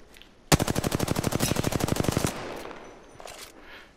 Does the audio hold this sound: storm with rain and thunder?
no